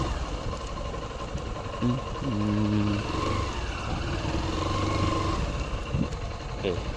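A motorcycle engine idles with a steady low rumble, rising slightly at moments, amid outdoor background noise.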